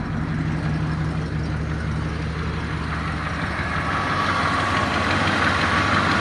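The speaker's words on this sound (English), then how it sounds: "You can hear that exhaust leak a little bit." A 1977 Chrysler Town & Country engine with an exhaust leak idles steadily and loudly, a rough, raspy exhaust note chuffing unevenly underneath the constant rumble.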